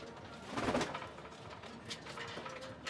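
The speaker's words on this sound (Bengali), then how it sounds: "পায়রাটা এরকম পায়রা, দারুণ মদ্দা" Pigeons offered for sale coo in soft, throaty bursts, one clearer call rising early and fainter coos following, close by with a light background hum and no talk.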